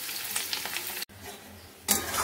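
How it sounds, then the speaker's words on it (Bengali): Potatoes frying in white oil, a soft crackling sizzle with stirring that drops out briefly, then resumes louder. "সাদা তেলেই ভেজে নিচ্ছি।"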